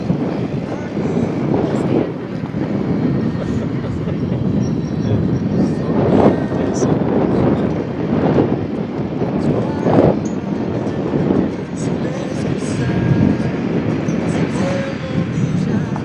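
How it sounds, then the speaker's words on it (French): A Pipistrel electric aircraft flies at an air show, heard as a steady, loud broadband whoosh and rumble that holds throughout with slight swells, and no voices. "Alors le Pipistrel, on lui a fait un vol, comme vous avez pu le constater"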